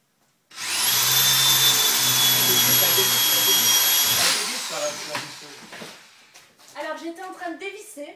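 Power drill unscrewing screws from plasterboard, a loud high whine of the motor running steadily for several seconds before spinning down, followed by handling clatter and people talking.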